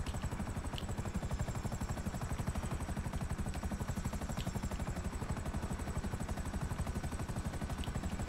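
Steady, loud rhythmic thumping of helicopter rotor blades with a continuous engine whine as a helicopter lands in the video game GTA V Online, constant throughout with no talking.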